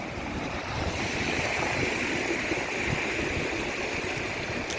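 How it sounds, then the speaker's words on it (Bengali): A strong river current surges during a tidal bore, a steady rushing wash of water that stays loud and even throughout, with a faint windy hiss layered on top. "ভালোই স্রোত আছে।"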